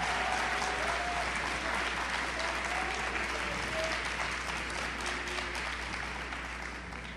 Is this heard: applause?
yes